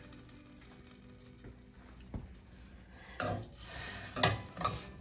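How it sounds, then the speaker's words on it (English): Butter melts in a pan on the stove while cooking stuffed chicken, giving soft sizzling and spattering with light stirring and utensil scrapes, growing louder toward the end. "I'm melting the butter at the moment"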